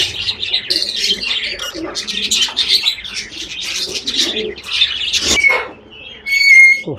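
Budgerigars chirp in a dense, continuous flock chatter, close and loud, with bright overlapping tweets filling the whole stretch and a few sharper calls near the end.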